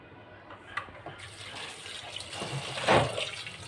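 Cut tengra fish are washed under running water, a soft close splashing and trickling that builds to a brief louder gush near the end.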